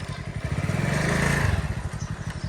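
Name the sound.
motorcycle engine restarted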